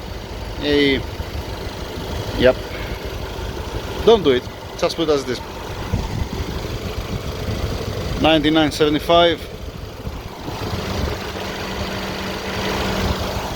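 A 2014 Mercedes E63 4matic with 115k km idles with a steady low rumble, while people talk close by over it in short bursts.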